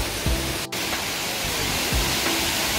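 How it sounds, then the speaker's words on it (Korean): Huibang Falls, a 28 m waterfall in Sobaeksan's Huibang valley, gives a steady, dense rush of falling water that fills the whole moment, loud and close with no pauses. "여기는 희방폭포입니다. 희방사의 희방폭포고 높이가 28m 정도 됩니다."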